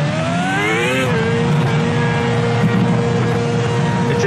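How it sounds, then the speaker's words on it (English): Loud V8 race car engine in the video game Project CARS, on an F1 circuit, revving high then dropping sharply as the car shifts, settling into a steady drone with a rising whine. "this car has gone through 3 sound changes in the early access and they settled on the V8"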